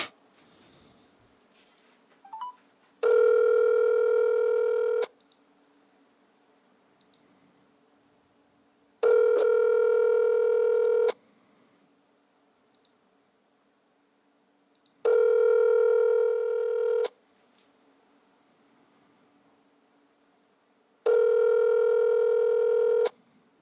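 A telephone call rings out: four long, evenly spaced ring-back tones about two seconds each, separated by quiet gaps, with faint breathing and small sounds between them.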